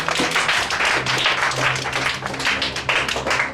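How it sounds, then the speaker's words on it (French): A church audience claps together in steady, dense applause, loud and close, with a faint voice beneath. "Ok, acclamez."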